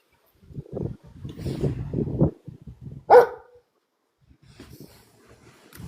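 Dogs bark and yip during a dog grooming haircut, with a sharp, loud bark standing out midway among softer whimpers and rustling movement.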